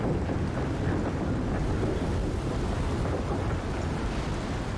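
Wind roars steadily in the video game Shadow of the Tomb Raider, a dense, loud, rumbling gust that stays constant throughout with no voices over it.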